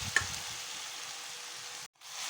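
Jackfruit pieces frying in oil with masala produce a steady, even sizzle throughout, with a brief stir at the start and a short gap near the end.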